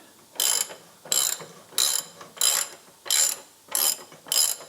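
Ratchet wrench loosening a bolt on the rear axle of a BMW Z3, seven evenly spaced clicking bursts repeating about every two-thirds of a second, close and moderately loud with no talk.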